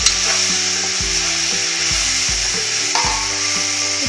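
Star fruit frying in a pan and being stirred for an Assamese recipe, a steady hiss of sizzling under repeated scraping and knocking of the spoon against the pan, close and busy.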